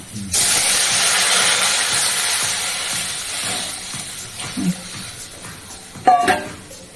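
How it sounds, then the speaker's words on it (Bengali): Water is poured into a hot pan, setting off a sudden loud hiss of steam that holds steady and then slowly fades over several seconds, followed near the end by a few utensil clinks and a brief scrape. "এবার একটু জল দিয়ে দিই"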